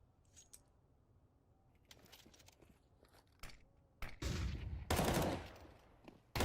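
Counter-Strike match gunfire: scattered single shots and clicks give way to loud automatic bursts and rapid volleys near the end.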